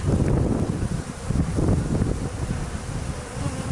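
Honeybees buzz in a constant dense drone during the removal of a massive beehive, close to the microphone, with wind rumble mixed in and no talking.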